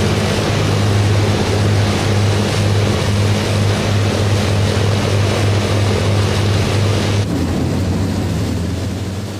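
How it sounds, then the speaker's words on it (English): A steady, loud drone of four Rolls-Royce Merlin engines on a Lancaster bomber, a deep throbbing hum that holds constant throughout with no talking. "they can make do with a familiar sound from their childhood, the music of 4 Rolls-Royce Merlin engines"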